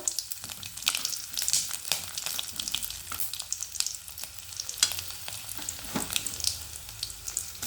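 Garlic hits hot oil with mustard seeds on a low flame, crackling and spitting in quick bright pops over a soft steady sizzle, with occasional stirring.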